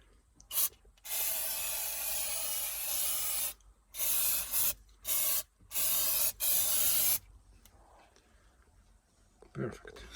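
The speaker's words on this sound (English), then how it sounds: "Brake cleaner will be a good degreaser." Brake cleaner is sprayed as a degreaser onto a cracked boat hull before an epoxy and fiberglass repair. One long hissing burst is followed by several short, sharp spurts, then near quiet.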